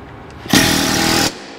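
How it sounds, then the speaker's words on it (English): A pneumatic air hammer in a workshop drives out pins in one loud, close, rattling burst of just under a second, with quiet before and after. "working the air hammer in again there"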